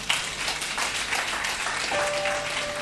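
A church congregation claps and cheers together during a worship service, producing a dense, steady wash of applause that stays fairly even from start to finish.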